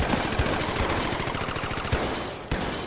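Rapid automatic gunfire in the battle-royale shooter Off The Grid, dense overlapping bursts with a few sharper heavy shots standing out, loud and continuous throughout.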